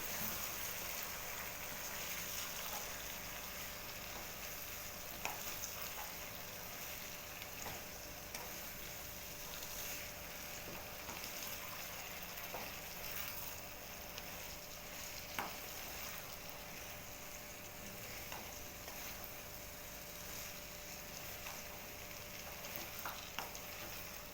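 Cauliflower and potato pieces being stirred in a frying pan for a curry, a steady soft sizzle with occasional faint scraping clicks from the spoon, fairly quiet and continuous without any talking.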